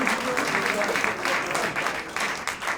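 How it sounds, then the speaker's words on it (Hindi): An audience at a book release ceremony applauds three performers, with loud, sustained clapping from a large crowd close by, briefly mixed with voices. "तो इन तीनों कलाकारों के लिए एक बार जोरदार तालियां हैं दोस्तों"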